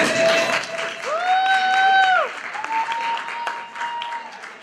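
Crowd applause at a school awards assembly fills the space while sustained tonal squeals, like whistles or feedback, rise and fade over it, with a voice briefly heard.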